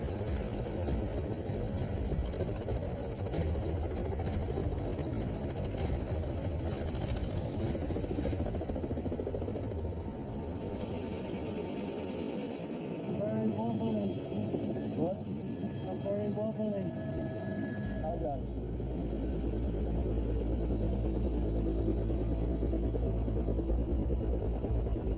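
Helicopter flying high on Mount Everest, a steady loud rotor drone and engine rumble that fills the whole stretch, with a faint shifting whine and a deeper roar building toward the end.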